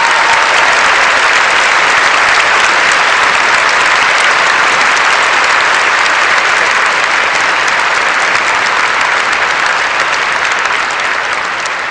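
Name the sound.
audience applause at the Fields Medal award ceremony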